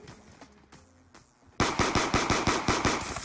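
Rapid automatic gunfire from Call of Duty: Black Ops II bursts in loudly after a quieter stretch, a fast even string of sharp shots close up.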